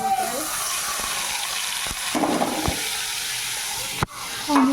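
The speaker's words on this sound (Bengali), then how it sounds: "তেলটা গরম হয়ে গেলে আমি পেঁয়াজ বাটাটা দিয়ে দেবো" Onion paste frying in a generous amount of hot oil gives a steady, close hiss and sizzle throughout, broken by a few sharp clicks of a utensil against the pan.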